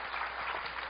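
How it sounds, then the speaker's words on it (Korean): Brief, steady applause from a church congregation, moderately faint and continuous with no voices over it. "박수하겠습니다"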